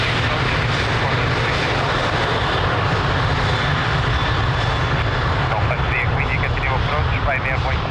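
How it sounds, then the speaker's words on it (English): A Boeing 737 airliner on its takeoff roll at Lisbon Airport, heard as a steady, loud engine roar with broad rumble and hiss held constant throughout, faint voices and radio chatter mixed underneath. "Boeing 737 rolling"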